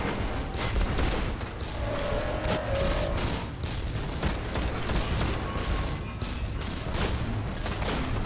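Gunfire in the Destiny raid Vault of Glass, dense bursts of rapid shots and booms overlapping almost continuously, loud and busy with little pause, no talking.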